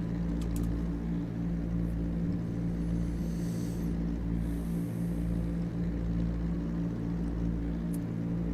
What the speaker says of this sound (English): I can still hear cars out on track, so someone's still driving